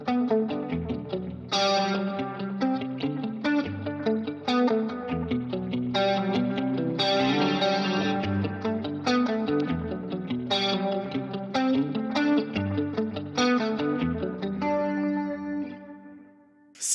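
An electric guitar played through a Line 6 Pod Express with chorus, echo and reverb turned up rings out in clean, shimmering chords and arpeggiated notes, each attack trailing into lush repeats and wash, loud and alone without talk.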